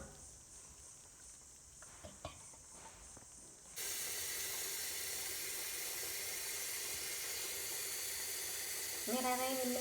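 Quiet at first, then a steady rush of running water starts and continues loudly into a basin, with a brief tone near the end.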